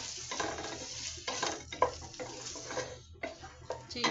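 Turmeric frying in a pan for a prawn and taro curry, a soft sizzle with occasional stirring scrapes and light clinks of a utensil against the pan, fairly close and steady, with no talking.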